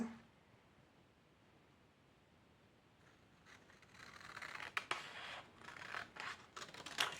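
Scissors cut through paper for a Christmas scrapbook project, with quiet handling at first, then a run of close, crisp snipping and rustling strokes toward the end.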